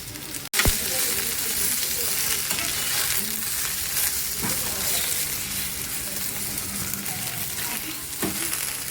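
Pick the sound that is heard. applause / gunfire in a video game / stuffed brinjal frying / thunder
stuffed brinjal frying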